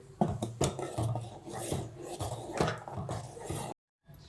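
Steady rasping, rubbing scrape as ragi flour is mixed into hot water for papad dough, close and continuous with soft knocks, then a sudden cut to silence.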